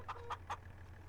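Chickens cluck three times in quick succession in Farming Simulator 25, short and fairly faint over a low steady hum.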